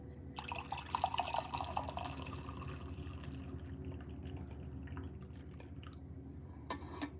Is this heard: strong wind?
no